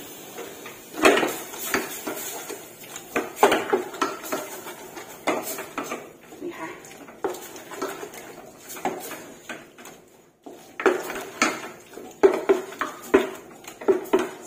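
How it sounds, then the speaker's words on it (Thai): Pork being stir-fried in a pan for Isan-style laab, with repeated close scrapes and clanks of a utensil against the pan in uneven bursts and brief pauses, and no talking. "เดี๋ยวรวนหมูให้สุดค่ะ"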